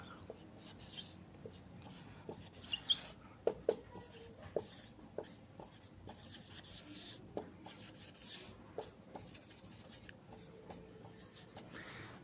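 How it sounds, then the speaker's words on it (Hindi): A pen writes on paper in quick, quiet scratching strokes with small taps, close and otherwise nearly silent, a faint voice now and then. "चलिए मैं लिख के ज़रा बयान कर देता हूँ।"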